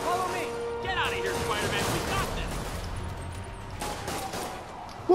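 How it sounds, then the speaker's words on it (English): Rapid gunfire rattles through a Marvel's Spider-Man video game scene, a dense fusillade of shots running steadily under excited talk, with a sharper burst at the very end. "You don't just shoot at me, I'm Spider-Man, bro."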